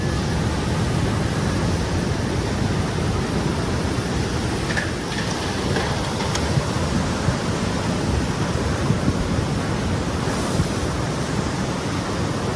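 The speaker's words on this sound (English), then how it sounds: "it did send a powerful tsunami that inundated all 171 islands with water" Tsunami floodwater rushing over low island land, a loud, continuous roaring wash with steady turbulent surf-like noise throughout and no speech.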